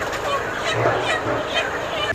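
Chickens from a poultry truck cluck and squawk in a dense, continuous clamor as they are weighed out for shops, with a low murmur of voices underneath.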